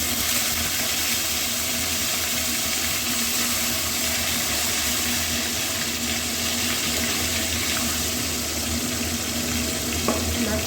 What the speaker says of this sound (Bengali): মাছগুলো একে একে ভেজে নেব।